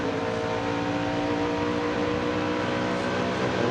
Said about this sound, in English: Look at the power going into that corner from Elliott.